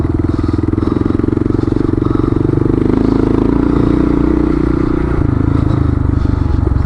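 A Kawasaki KLR motorcycle rides over rough off-road terrain, its engine droning loud and close throughout, with rattling and clattering from the bumpy ground.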